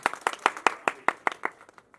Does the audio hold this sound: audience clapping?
yes